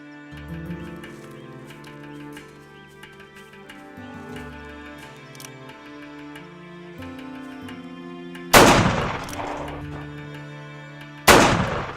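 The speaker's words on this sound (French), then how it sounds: "Tirez 2 fois sans vous mettre à découvert" Two loud, sharp gunshots ring out a few seconds apart during shooting practice in an action film, each decaying quickly, following a stretch of tonal background music.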